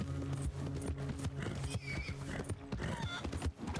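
A horse in Red Dead Redemption 2 clip-clops along with quick, regular hoofbeats and a neigh or whinny. The game's background sounds play under it.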